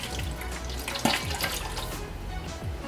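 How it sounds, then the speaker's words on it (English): Water poured out of a stainless steel airtight tea canister, a continuous close splashing trickle with a few brighter drips and knocks, with no talking. "Alright, so let's pour it out."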